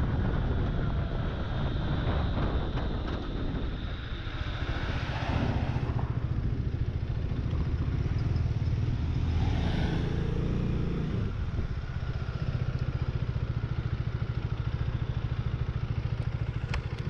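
Husqvarna Svartpilen 250 motorcycle ridden on the road, a steady low engine drone mixed with heavy wind rush over the microphone, continuous throughout with slight swells in pitch, no talking.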